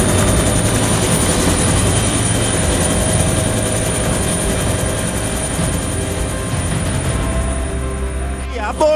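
Search and rescue helicopter hovering during a winch recovery, a loud, continuous rotor and turbine roar filling the whole span with steady blade thrum.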